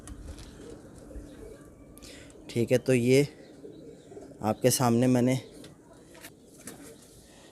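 Pigeons coo in two short rolling bursts while eating millet, close by, while someone talks over and between them.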